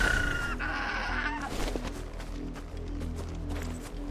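A chocobo, the large bird of Final Fantasy XVI, lets out a honking, goose-like call near the start, followed by fainter squawks over a low background hum.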